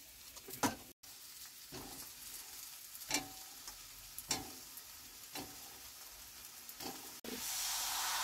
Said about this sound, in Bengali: এবারে এঁচোড়টা আলুটা মশলার সঙ্গে দিয়ে ভালো করে কষিয়ে নেব